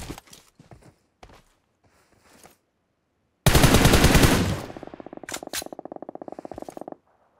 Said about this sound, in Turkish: Nereden sıkıyorsunuz lan bana?